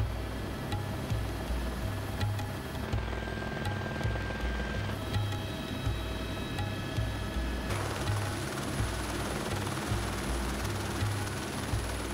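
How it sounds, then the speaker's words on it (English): A continuous, pulsing rotor thump with a whining engine drone, loud and steady throughout, as if heard from inside or right beside a helicopter flying over Fiordland, New Zealand. "Helicopters are often the only way to connect with Fiordland's other main form of transport"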